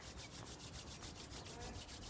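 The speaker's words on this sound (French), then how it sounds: "On frotte les mains." Palms rubbing together briskly in a quiet room, a steady run of soft, close swishing strokes at an even rhythm.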